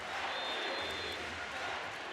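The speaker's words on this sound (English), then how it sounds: "Crowd chanting Landin." Handball arena crowd in a European championship final between Denmark and France chanting the name of goalkeeper Landin, a dense, steady roar of many voices filling the hall without a break.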